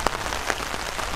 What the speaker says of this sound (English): The rain coming down hard now, eh?